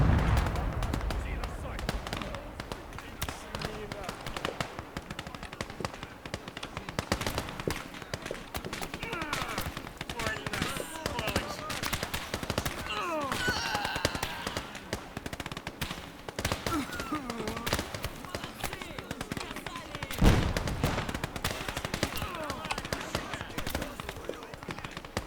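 Machine-gun fire rattles through a large urban battle in the World War II strategy game Gates of Hell, sustained bursts and scattered shots layered with other combat noise throughout, with a louder crack near the end.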